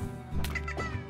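Chickens in the farming game Slime Rancher, a short burst of close fowl clucking and squawking over a low ambient hum, with no talking.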